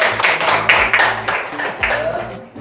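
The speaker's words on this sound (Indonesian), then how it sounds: "Tepuk tangan untuk kelompok." Classmates in a school classroom clap for a student group after its presentation, with uneven, loose claps close by and voices talking over them throughout.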